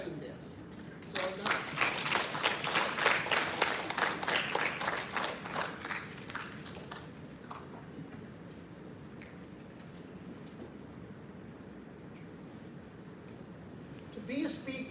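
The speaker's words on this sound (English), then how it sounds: "I would like us together to give a hand of applause to Miss Ada for preparing this." An audience claps for a speech at a school World Speech Day event, a swell of dense applause that builds for several seconds then thins and fades, with a voice speaking over the quieter tail.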